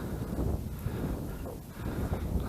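Strong wind buffets the microphone in a steady, low roaring rush with gusty swells, no voices, at a pond while winter spin fishing.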